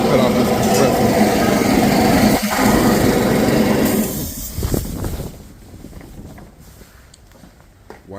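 Air compressor chugging loudly in a shop during primer spraying on a 1970 Chevelle, then cutting off and leaving quieter background noise, with someone talking over it.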